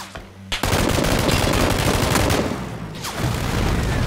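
Sustained, loud rapid gunfire in a shooter video game breaks in after a short quiet moment and rattles on continuously, with bursts overlapping into a dense barrage.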